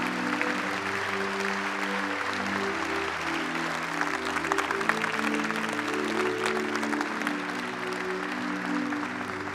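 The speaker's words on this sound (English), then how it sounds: "Would you applaud for Matthew?" A church congregation at a contemporary Sunday service applauds steadily, with sustained broadband clapping continuing throughout while a held musical tone runs underneath.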